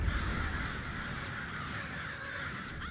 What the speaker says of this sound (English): Attack crows! Activate!